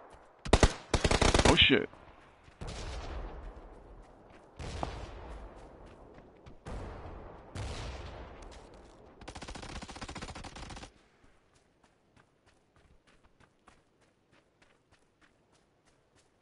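Gunfire in PUBG, a loud close burst of automatic shots followed by several more scattered volleys and running footsteps, fading to near quiet; a man briefly exclaims partway through.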